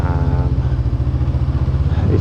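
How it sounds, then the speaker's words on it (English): A 2023 Honda CB500F parallel-twin engine revs steadily high while riding in a lower gear, a loud continuous throbbing drone with wind rush throughout. "It's revving relatively high now that I've geared it down."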